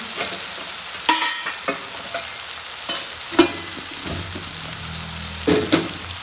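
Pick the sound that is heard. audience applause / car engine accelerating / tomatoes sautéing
tomatoes sautéing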